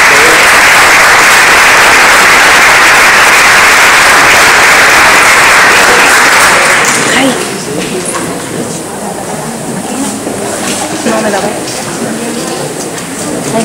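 Loud, dense audience applause fills the room at a public talk on sustainable development, sustained for several seconds before dropping off, followed by quieter room sounds and a few voices.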